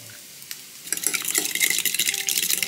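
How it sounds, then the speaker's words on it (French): Ingredients are stirred in a frying pan with five cracked eggs, salt and pepper, starting with a few light scrapes, then loud sizzling and scraping strokes close up, with no talk. "On mélange."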